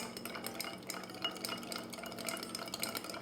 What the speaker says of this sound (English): And we're gonna give this a stir.